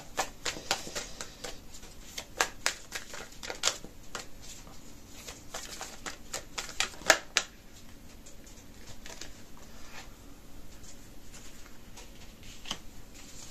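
Tarot cards being shuffled and drawn by hand, a quick run of crisp, soft flicks and taps, close and quiet, that thins out toward the end. No one speaks.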